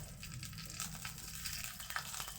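Garlic and dried red chillies frying in oil in a wok, a soft, steady sizzle running throughout at low volume with no talking.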